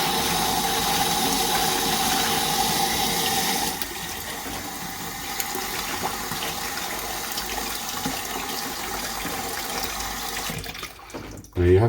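Water poured steadily into a container holding a silver-recovery mixture from IC chips, a loud continuous rushing splash that softens after a few seconds and ends with a brief clatter.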